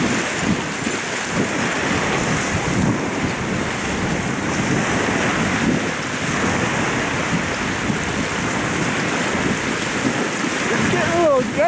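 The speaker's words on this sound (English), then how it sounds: "Gutsy with those waves." Big ocean waves crash and roar continuously close by, a steady broadband surf wash with wind, loud throughout without a break.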